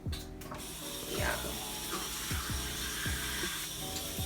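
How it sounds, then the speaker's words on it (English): Water pours into a pan of honey roasted ribs, a steady hissing, splashing stream with some clatter, close and fairly loud, with no talking. "I'm gonna just add a little bit of water on the side."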